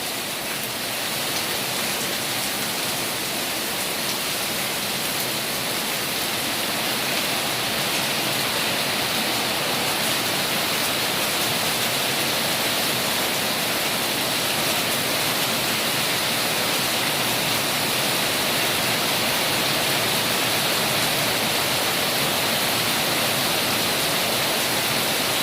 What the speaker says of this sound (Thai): วันนี้คาดว่านะคะฝนถ้าจะตกทั้งวันเลยนะคะดูท้องฟ้ามืดมัวไปหมดเลยนะคะ